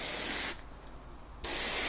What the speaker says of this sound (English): It's actually quite tricky spraying a spherical object, because you have to maintain your distance